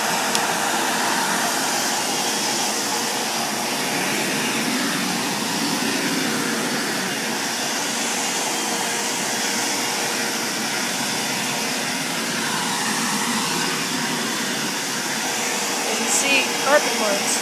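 A Bissell Lift Off upright vacuum cleaner with a brush roll runs continuously as a steady, close, high-pitched motor whine.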